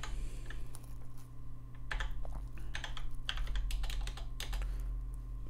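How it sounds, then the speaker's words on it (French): Keys clatter on a computer keyboard as a command is typed, quick bursts of clicks close up over a steady low electrical hum. "si maintenant je tape PHP"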